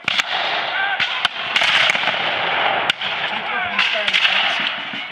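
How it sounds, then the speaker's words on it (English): Distant musket volleys from a company of War of 1812 reenactors at a battle reenactment, heard as scattered sharp cracks over a constant broadband wash of outdoor noise, with a voice speaking at times. "The company on the end is now preparing to fire."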